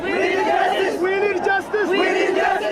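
A large protesting crowd at an Oromo festival in Bishoftu, Ethiopia, chanting and shouting together in loud rhythmic swells, close and dense, with voices rising and falling in waves.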